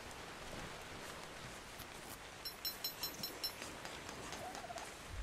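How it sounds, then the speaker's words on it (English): Rain falling in the video game ARK, a quiet, even wash of hiss with a short run of faint rhythmic bird-like calls partway through and no speech. "Now that it's raining"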